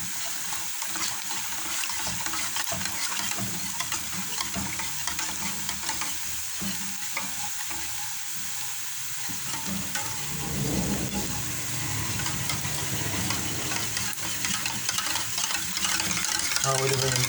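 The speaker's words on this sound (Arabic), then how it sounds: "ها هو دابا عندك نشد نحرك مزيان باش ميتكورش ليا" Continuous stirring and scraping of béchamel sauce with ground meat in a pan, a steady wet swishing under a constant sizzling hiss throughout, with no voices.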